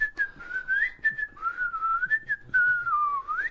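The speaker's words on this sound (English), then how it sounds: "I don't whistle, but I can whistle better than that." A man whistles a wandering tune, a clear solo whistle that glides up and down in pitch, close and alone with no talk over it.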